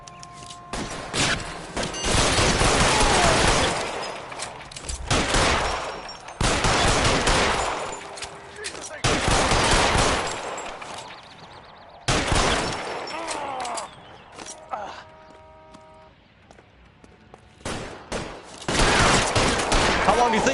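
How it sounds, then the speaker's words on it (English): Gunfire in the L.A. Noire video game, with repeated loud bursts of rapid shots and fusillades in several long volleys separated by brief lulls, and voices talking between them. "Fire a warning round"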